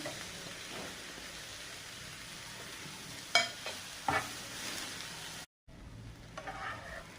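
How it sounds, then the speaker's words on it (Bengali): Dried shrimp frying in a pan with turmeric, a quiet steady sizzle broken by a few brief scraping stirs, then a short dropout before the faint frying resumes. "দিয়ে দিলাম, দিয়ে এটা নাড়াচাড়া করে ভেজে নেব।"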